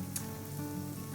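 Onions frying in a pan for a cauliflower and lentil curry give a steady, close sizzle with a light crackle, alone and without talk.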